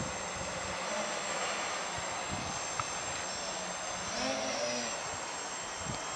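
Motors of a KK quadcopter drone in flight, a steady loud buzzing whine that holds level with slight swells, continuous and fairly close.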